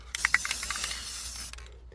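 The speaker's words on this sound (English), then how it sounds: "you spray it with the clear gloss" A short burst of hissing spray from an aerosol can of clear gloss onto painted rocks, about a second and a half long, preceded by a couple of quick clicks.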